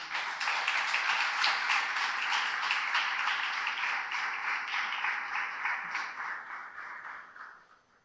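Congregation at a church sermon claps together in a fast, even rhythm, fairly loud at first and tapering away in the final seconds.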